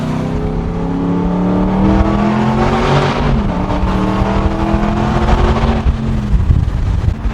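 An exotic car accelerates hard through a bridge underpass tunnel, its engine note climbing loud and close with reverberant roar, then easing off near the end.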